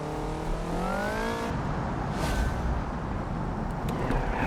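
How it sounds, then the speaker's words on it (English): A supercharged car in the BeamNG.drive driving game revs with a rising supercharger whistle over engine roar, then settles into a steady rumbling drone with road and tire noise. "Oh, that supercharger whistle."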